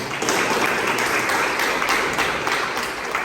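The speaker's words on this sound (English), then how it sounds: "I think they deserve a better round of applause" A meeting audience clapping for guests from a corporate group, a full round of applause that stays dense and loud from start to finish.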